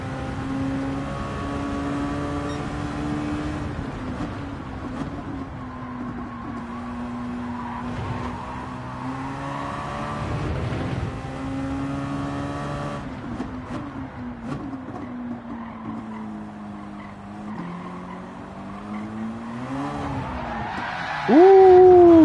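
Race car in Gran Turismo 7 lapping a practice session, engine drone rising and falling through gear shifts with a tire squeal near the end; a voice talks intermittently over it.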